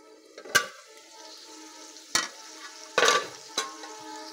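Mutton with three cloves of garlic being sautéed in a pan, a low steady sizzle broken by a few sharp scraping stirs and clinks of the spoon against the pan, with no talking.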